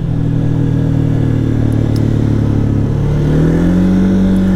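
A Can-Am Outlander 700 ATV engine drones loudly and close on asphalt, a steady mid-pitched hum that rises in pitch toward the end as it accelerates.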